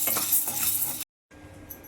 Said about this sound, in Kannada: ಡ್ರೈ ರೋಸ್ಟು ಸಣ್ಣ ಉರಿನಲ್ಲಿ ಚೆನ್ನಾಗಿ ಕಂದು ಬಣ್ಣ ಬರಬೇಕು